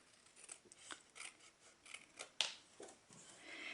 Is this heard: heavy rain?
no